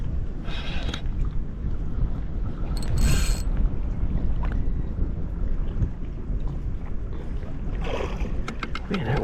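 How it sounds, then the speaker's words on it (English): Steady wind gusting across open water on a Charlotte Harbor fishing boat, a continuous broadband rush with brief louder buffets against the microphone and no talk. "Man, that wind is picking up."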